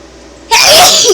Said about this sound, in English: now I'm just going to sneeze my head off